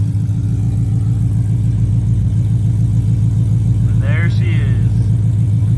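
A built Ford Mustang GT engine running loud and steady at a close, even idle with a throbbing low rumble, while a voice speaks briefly over it near the end.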